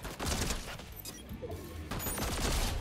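Gunfire in Fortnite comes as bursts of rapid shots: a volley at the start, a quieter lull in the middle, then renewed shooting toward the end, at moderate distance with no talk.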